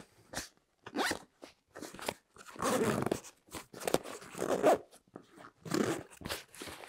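Zipper on a mesh pocket of an Eberlestock FAC Track V3 military backpack, heard up close as a series of short rasping pulls with pauses between them.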